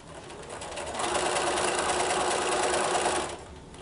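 A sewing machine stitches a seam on a quilt block, running in a steady, close, fast buzzing burst for about two seconds before stopping, with no talk.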